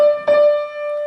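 A single piano note struck twice in quick succession rather than held, the second strike re-attacking the ringing tone loudly and up close.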